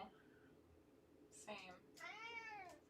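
Pet cat meowing indoors, two close mewing calls, the second longer and drawn out, following a faint voice at the start.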